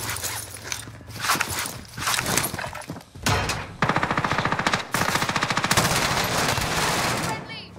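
Automatic gunfire from an SMG in Call of Duty Warzone, loud bursts of rapid rattling shots that come in repeated volleys amid game effects, with a voice briefly talking over it.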